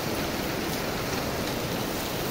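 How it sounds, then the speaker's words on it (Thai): Steady rain pouring down on a gloomy, heavily overcast morning after a night of heavy rainfall, a dense continuous hiss with no break and no voices. "ช่วงเช้าก็ฝนตกอย่างนี้แหละครับ"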